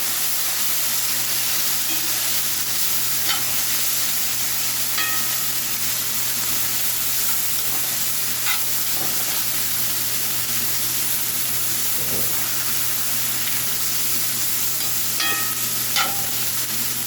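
Onions and mushrooms sautéing in butter in a pan, a constant loud sizzle with sparse faint clicks of stirring, close and steady, no voices.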